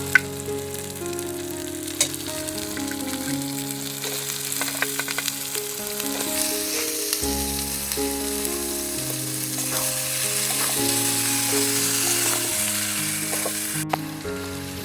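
Young jackfruit hits a hot pan and sizzles loudly and steadily with occasional stirring scrapes, while background music plays throughout.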